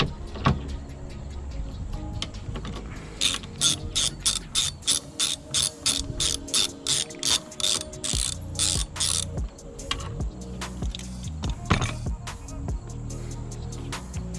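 A ratchet loosens a 10 mm bolt on a Lexus IS door panel, with quick bursts of rapid clicking repeated many times, plus occasional knocks and handling noises nearby.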